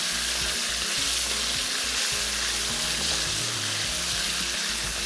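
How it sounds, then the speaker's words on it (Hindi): Chicken frying in oil for a frontier-style chicken masala gives a loud, steady, dense sizzle that fills the whole stretch, with faint stirring thumps beneath it and no talking. "एक से 2 मिनट तक चिकन को फ्राई करने के बाद"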